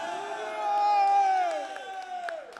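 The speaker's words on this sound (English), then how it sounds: "a huge round of applause to the national team of" An esports event crowd cheers and whoops for the Tunisian national team at the FIFAe Continental Championship, with one long sustained call rising above the noise for a couple of seconds.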